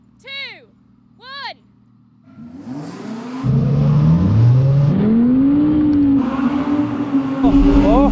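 An Audi R8 with stability control off and a manual gearbox accelerates up a snowy hill, its engine revving loud and rising in pitch through gear changes after a couple of short electronic beeps.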